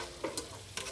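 Shrimp frying in butter with onion being stirred in a home kitchen pan, a low steady sizzle with a few brief scraping stir strokes, close and alone.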